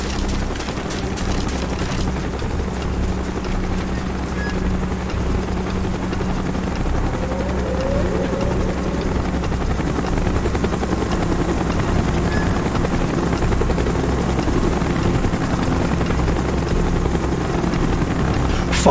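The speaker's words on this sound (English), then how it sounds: "Chopper's inbound." Helicopter rotor chop in the video game Call of Duty Black Ops, a steady loud drone with low thumping that holds throughout, no talk.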